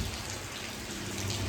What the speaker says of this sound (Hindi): देखो बार बारिश लगी है भाई